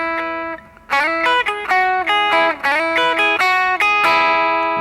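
An electric guitar plays a solo riff: a quick run of bright, picked, sustained notes with a shimmering effected tone, loud and alone, ending on a held note.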